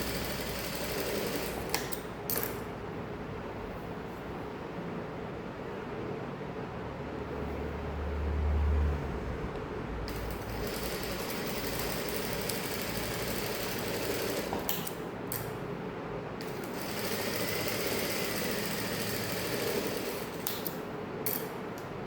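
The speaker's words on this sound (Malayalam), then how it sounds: "ടക്കിനെല്ലാം 2 സ്റ്റിച്ച് ഇട്ട് കൊടുക്കണം." A sewing machine stitches tucks on a saree blouse, running as a steady continuous mechanical whir with short pauses and restarts, close and fairly loud, with no talking.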